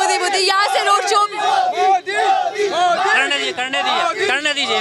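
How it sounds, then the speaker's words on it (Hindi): A dense crowd at Prime Minister Modi's road show in Jaipur, Rajasthan chants "Modi Modi" in many overlapping voices, loud and near, with shouts and cheering rising and falling steadily throughout. "आप सुनिए गाने लग रहे हैं मोदी मोदी"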